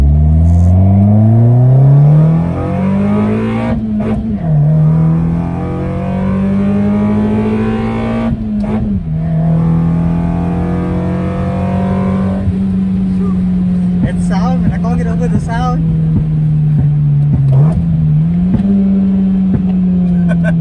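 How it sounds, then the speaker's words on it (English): A Toyota Corolla AE92 with a 7AFE engine on individual throttle bodies runs loud and close, a steady raspy drone with a few brief rev blips and dips. "High rev range, so you must rev it out to get the power."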